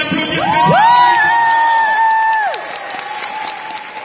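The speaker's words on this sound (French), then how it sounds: "je crois qu'on peut l'applaudir très fort" A crowd at a film premiere evening for Nicky Larson Private Eyes breaks into loud, sustained applause and cheering, with a shrill whistle rising above it; the cheering eases toward the end while the clapping carries on.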